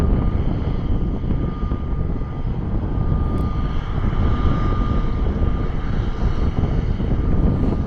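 Army Black Hawk helicopters taxi nearby, a loud continuous turbine whine and engine roar holding steady throughout, with no talking.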